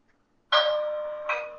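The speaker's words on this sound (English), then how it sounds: "there's the doorbell." An electronic doorbell chime from a homemade intercom rings loudly nearby, one sustained tone followed by a second ding that rings on.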